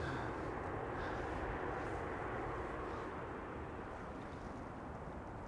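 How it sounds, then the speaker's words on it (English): A Turkish Airlines A330-300 arriving from Istanbul at Amsterdam Schiphol, a steady, moderately faint broadband jet rumble that fades slightly toward the end, with no talk. "A330-300 arriving from Istanbul, flight 1951."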